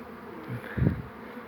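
Honeybees fly around hives in an apiary, their soft buzzing hum rising briefly as one passes close. Faint outdoor background surrounds the buzz.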